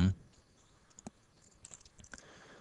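A computer mouse clicks the apply button in GENESIS32 DataLog software, a few small, quiet clicks spread over a couple of seconds after a short thump at the start, close to the microphone in a quiet room.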